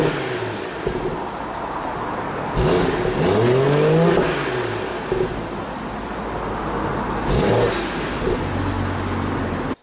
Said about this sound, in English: I'm gonna now put the camera outside behind the car, do a few revs, and you guys can see what happens.